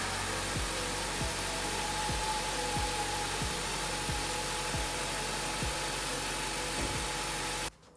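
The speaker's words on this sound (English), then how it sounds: "run the engine for a little bit to make sure we're at the correct level." A Mitsubishi Outlander engine idles steadily after an oil change, a constant mid-pitched hum with faint periodic ticks, running alone for about eight seconds before cutting off abruptly at the end.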